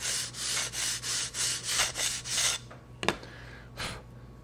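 A bench belt sander shaping wooden tail feathers for a giant scale model aircraft, rhythmic rasping strokes repeated about nine times, then a few scattered scrapes and a sharp knock, close and moderately loud.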